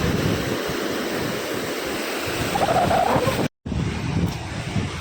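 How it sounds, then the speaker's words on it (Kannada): Ocean waves washing onto Surathkal beach on a calm day, a broad steady roar of surf and wind that swells slightly near the end, broken by a brief dropout, with no speech. "ಈಗ ಹೊಡಿತು ಜೋರಾಗಿ ಅಲೆ"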